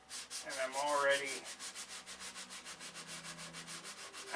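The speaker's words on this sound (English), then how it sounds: "So I got to get the weight off of it by sanding the primer off of it." Sandpaper scrubs primer off a painted part, a close, rhythmic back-and-forth rasp of steady strokes, briefly rising in a squeaky whine before settling into even pulses, with no speech.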